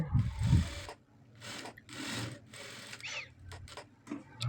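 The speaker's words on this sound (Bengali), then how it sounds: "তো আমি এটি মেশিনকে সেলাই করে নিচ্ছি" A sewing machine stitches a garment in short stop-start bursts, the motor whirring in several brief runs separated by pauses, close and fairly quiet with no talk.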